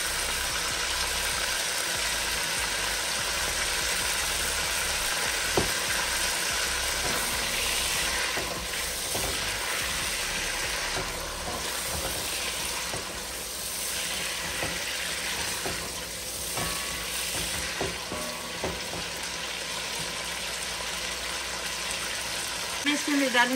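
Ginger garlic paste, a heaped tablespoon, frying in a pan for smoky yogurt chicken gravy, giving a steady broadband sizzle with scattered pops and stirring scrapes, loud and continuous throughout.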